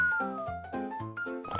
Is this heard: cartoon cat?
yes